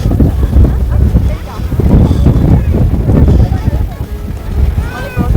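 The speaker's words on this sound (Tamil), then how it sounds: "காற்று எவ்வளோ அடிக்குது பாருங்க." Strong wind at Siruvani dam buffets the microphone in a loud, continuous low roar that swells and eases in gusts.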